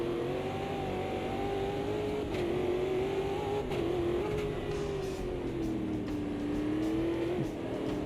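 Race car engines in a sim racing game rise and fall in pitch as they accelerate and shift, a steady whine held at moderate level throughout with no voices.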